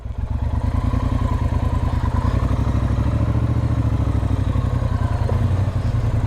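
A motorbike pulls up along a lane, its mid-pitched engine running loud and close with a steady, slightly clattering idle throughout.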